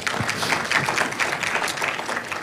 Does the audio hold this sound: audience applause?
yes